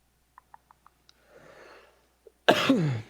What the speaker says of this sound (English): a quick cough while I mull over my plays